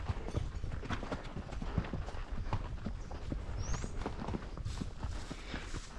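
A horse walks with steady clip-clopping hooves, a continuous close run of soft thuds over a rough outdoor background, with no clear talking.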